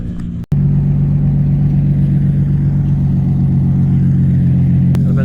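A Toyota Supra race car at a time attack event drives with a loud, steady engine drone and rumble that holds nearly constant after a brief cut at the start, close and continuous.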